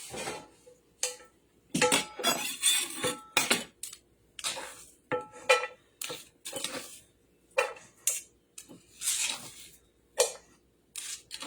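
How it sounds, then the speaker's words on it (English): A frying pan and other kitchenware are handled in a home kitchen, giving repeated clanks, scrapes and metallic knocks in irregular bursts with short pauses, close and fairly loud, with no talking. "I'm going to get my frying pan."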